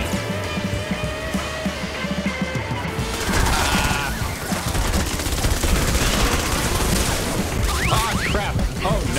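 Enemy fire from husks in Fortnite Save the World erupts as a dense, sustained burst of gun-like crashes and bangs over game music, with a voice talking over the chaos.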